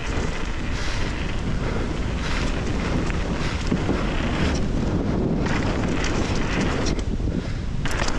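Strong wind buffets the microphone at a bike park in Highland, a constant loud roaring rush that swells and dips slightly in gusts, with no voices heard.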